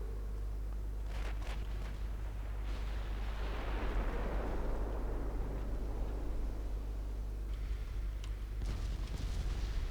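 Naval main gun fire in the Ultimate Admiral Dreadnoughts warship game, a deep booming blast swelling into a long rolling rumble over a constant low drone, with a few fainter thuds around it.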